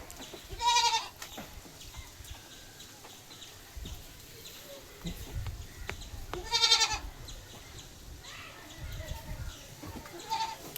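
Malabari goat kids bleat in two short, high bursts, one early and one midway, over a quiet background with faint rustling and distant voices.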